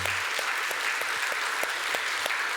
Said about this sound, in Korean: 이 교회가 떠나가도록 우리 하나님께 영광의 박수 올려드립니다